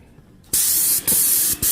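A VEVOR 750W airless paint sprayer with a large tip sprays in loud, steady hissing bursts, two long blasts separated by a brief pause after a quiet start, close and with no talking.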